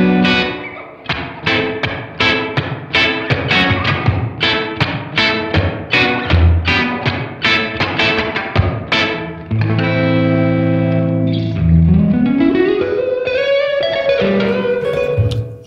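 Electric guitar through a Fender Reflecting Pool delay and reverb pedal on a studio-room setting plays a run of plucked notes, then sustained chords ringing out with a wide, roomy reverb tail, no voices.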